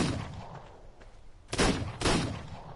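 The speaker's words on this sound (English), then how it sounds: "Oh no, he's shooting the crab." Two sharp, broadband gun bursts from a handgun in the survival game Ark, a faint earlier pop and then two louder shots about half a second apart, with no talk over them.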